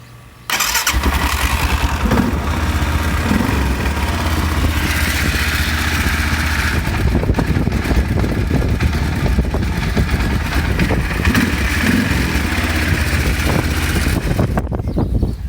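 An equipment engine cranks and catches, then runs loud and steady at close range with a rough, pulsing drone, before stalling and cutting out abruptly near the end, outdoors on a mild spring day.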